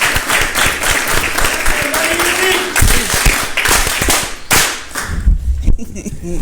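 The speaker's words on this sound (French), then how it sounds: "Ça mérite des applaudissements." A studio audience on a live talk broadcast claps loudly, with sharp percussive claps and cheering mixed in, briefly dipping before resuming.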